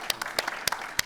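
An audience applauds at a talk on hiring refugees, with scattered, uneven claps sounding close and fairly loud for a brief moment.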